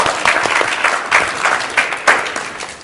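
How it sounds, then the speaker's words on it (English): A small group gives a round of applause during a patient interview session, close and fairly loud steady clapping with a few stronger bursts, no voices rising above it. "Let's give him a round of applause."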